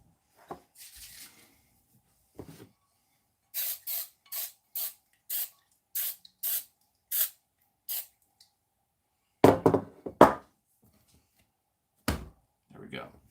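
A kitchen spray bottle pumped in a quick run of about eight crisp, evenly spaced spritzes during vegan food prep, with a few thuds and handling noises before and after.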